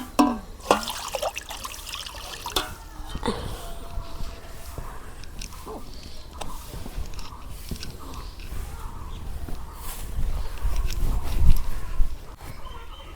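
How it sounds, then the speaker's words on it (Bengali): Water trickles and splashes into a cooking pan for a village-style fish curry, an uneven pouring sound with some clattering knocks, fairly close and without talk. "কড়ার মধ্যে পানি দিই আগে।"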